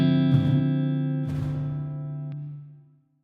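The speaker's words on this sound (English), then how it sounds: "It really changes the characteristic of the reverb." A sustained synth chord rings out with two bursts of noisy reverb from the BX Rooms plugin swelling around it, its room size changing the wash's character before everything fades to silence.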